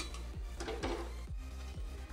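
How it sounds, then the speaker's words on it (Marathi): A metal kadhai of spiced oil for Indian gooseberry pickle is lifted off a gas stove, giving a few sharp metallic knocks and scrapes at a loose rhythm over a steady background hum. "आता मी कढई खाली उतरवत आहे"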